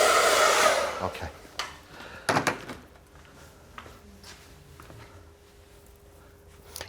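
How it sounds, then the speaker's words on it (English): A hairdryer blows on the heat setting in a salon for about a second, then cuts off, followed by soft handling knocks and quiet room noise. "Did you use the hairdryer just then on heat or cool?"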